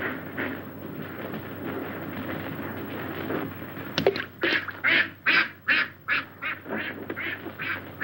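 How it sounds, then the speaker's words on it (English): Ducks quack in a run of loud, close, evenly spaced calls in the second half, following several seconds of murky, muffled background noise from an early 1930s film soundtrack. "Look at those ducks."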